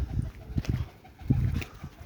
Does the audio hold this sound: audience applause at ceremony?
no